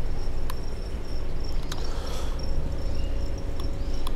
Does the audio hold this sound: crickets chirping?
yes